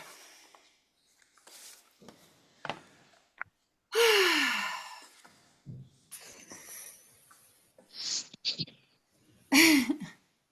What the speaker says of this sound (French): Là, je vois tout le monde, ça baille partout